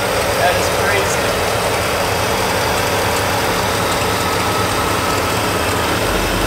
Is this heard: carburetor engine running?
yes